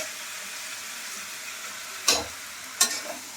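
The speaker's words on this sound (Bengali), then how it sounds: "লাউ দিয়ে আমি ভালো করে কষিয়ে নিয়ে একটু," Bottle gourd pieces sizzle softly in a pan as they fry, with two sharp scraping knocks of a spatula stirring them against the pan, close and fairly quiet, no voices.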